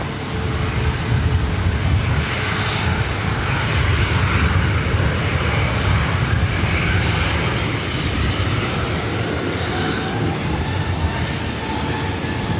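Airliner jet engines roar steadily on the LAX runway at takeoff power, a loud, continuous broadband rumble that holds throughout without pause or talk.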